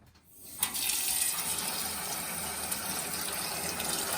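A pot filler faucet runs water into a pot in a home kitchen while strawberry jam is prepared, a steady close gushing stream starting abruptly and continuing alone without speech.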